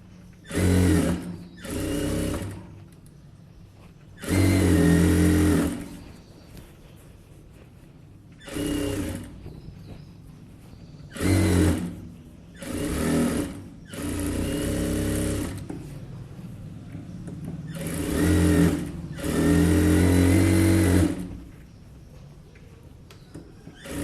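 A sewing machine runs edge stitching along a blouse in repeated bursts of steady whirring, loud and close, each run stopping and starting again with quiet pauses between.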